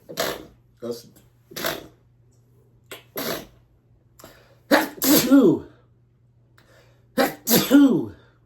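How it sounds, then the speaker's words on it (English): A run of sharp sneezes, several in quick succession with short pauses, close and loud, ending in two bigger explosive sneezes. "My first on-camera sneezing fit"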